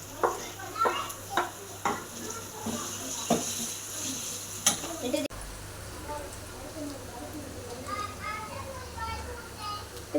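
Green chilies and ginger fry in oil in a home kitchen, a steady sizzle running throughout, with stirring knocks against the pan in the first half and children's voices chattering in the background.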